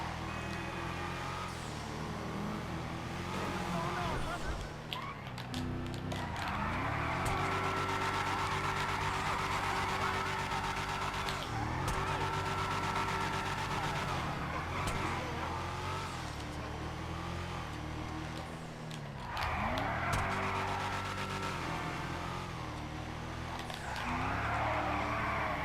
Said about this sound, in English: we'll try to actually drive this around for a second